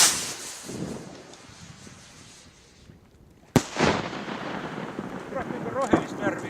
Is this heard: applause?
no